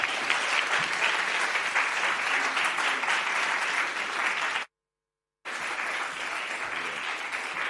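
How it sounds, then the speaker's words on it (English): Audience at a climate solutions forum applauding a performer, a dense continuous wash of clapping that holds steady, cuts out briefly, then resumes at a similar level. "Please welcome, with lots of stamping and clapping, Itai Hakim."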